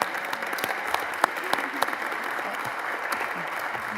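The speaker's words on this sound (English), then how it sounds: "Give him a round of applause." A room full of people claps steadily, a dense patter of hands with a few sharper claps standing out, sustained at moderate loudness throughout.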